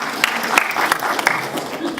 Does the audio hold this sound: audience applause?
yes